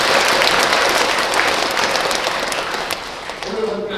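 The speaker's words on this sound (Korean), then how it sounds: "경례 박수 한번 보내주시면 고맙습니다" A crowd claps loudly and steadily at a Buddhist inauguration ceremony, a dense wash of applause that gradually softens toward the end.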